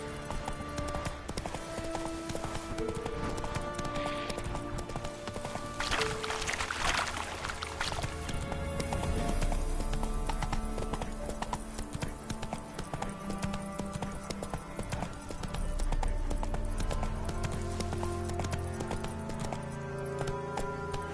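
Horse hooves clip-clopping steadily in the video game The Witcher 3, a continuous rhythmic trot heard alongside game music and ambience, with no speech over it.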